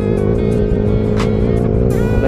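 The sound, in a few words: Yamaha Sniper 135 motorcycle accelerating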